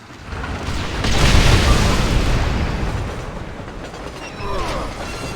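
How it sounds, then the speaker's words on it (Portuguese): A train in the video game Red Dead Redemption rumbles past in a broad, swelling roar with mechanical clatter, building to a loud peak then easing, with a squeal near the end. "Oi, olha o trem."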